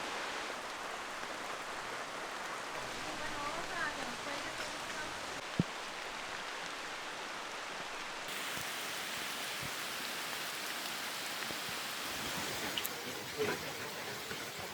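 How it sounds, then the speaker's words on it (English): Heavy rain in a Costa Rican rainforest pours down steadily as a constant hiss, with occasional louder drops and splashes close by. "It's raining a lot."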